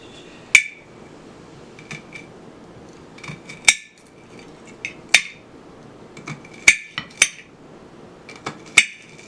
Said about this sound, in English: then I'm going to cut my pepper